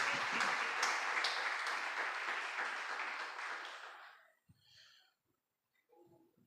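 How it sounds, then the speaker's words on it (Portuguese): Church congregation clapping joyfully for Jesus, a steady, fairly dense round of applause that fades out after about four seconds, followed by faint scattered sounds and near silence. "bate palmas bem alegre de vitória para Jesus"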